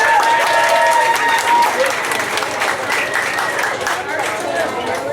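Audience applause for poet Floatin' Fred at a Beatnik 2000 gathering: dense, steady clapping from a big crowd that stays loud throughout and eases slightly toward the end, with some voices mixed in.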